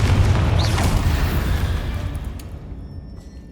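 A Confringo fire spell exploding in Hogwarts Legacy, a loud, deep rumbling boom already underway that rolls and slowly fades over a few seconds.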